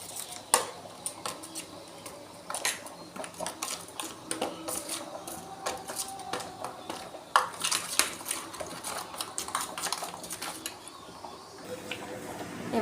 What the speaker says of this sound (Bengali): তো এটা একটু মানে ভেজে আসলে মশলার মিশ্রণটা একটু নাড়ব।